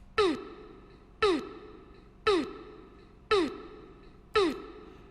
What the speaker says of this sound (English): So I added a vocal chop.